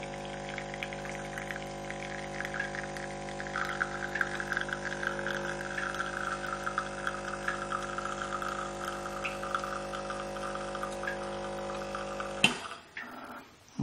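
Sunbeam EM7000 espresso machine pouring a shot, its pump humming steadily with a thin liquid hiss and trickle for about twelve seconds before a clunk ends it, recorded close and fairly quiet.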